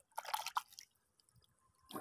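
A small fish is dropped back into water, giving a few quick, soft splashes and drips close by, then near silence with a faint splash at the end.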